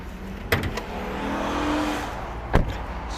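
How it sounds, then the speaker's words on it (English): The hood of a 2023 Acura Integra A-Spec is opened, with a couple of sharp clicks and thunks near the start and a louder clunk near the end, over quiet background hum. "So now I'm going to open the hood."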